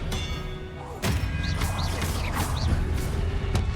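Spell impacts from Hogwarts Legacy gameplay, with several sharp thuds and crashes, one loud hit near the start and more bursts over a steady game rumble, along with brief whooshing swirls.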